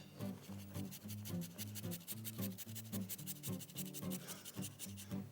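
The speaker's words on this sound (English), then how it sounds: "So all we're going to do is grate a little bit of this beet into our" A beet is rubbed over a small, dainty hand grater in quick, steady, rhythmic strokes, faint and close, with no talking.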